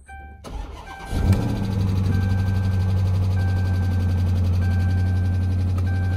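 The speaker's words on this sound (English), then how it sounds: "But it definitely has a motor knocking." A car engine cranks and catches after a second, then runs on steadily with a low, rough hum and a faint repetitive knocking in the motor.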